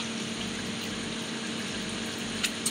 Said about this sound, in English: the faucet turned on and the water draining down into the 5-gallon gray water tank